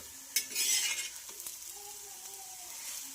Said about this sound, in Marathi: तर आपण हा धपाटा खरपूस भाजून घेऊया